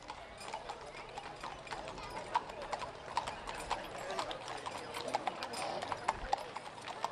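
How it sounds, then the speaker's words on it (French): Horse hooves clip-clop steadily on pavement during a town parade, amid outdoor crowd noise, with a voice talking faintly in the background. "C'est Marie-Claude de Saint-Pierre qui suit avec son cheval, le Gamet."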